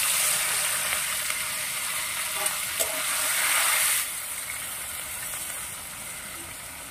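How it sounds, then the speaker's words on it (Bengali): Marinated fish dropped into plenty of hot oil in a pan, giving a loud, bright sizzle that swells for a few seconds, then settles to a steadier, softer fry with a couple of faint clicks. "তেলটা গরম হয়ে গিয়েছে, ম্যারিনেট করে রাখা মাছগুলো দিয়ে দিচ্ছি।"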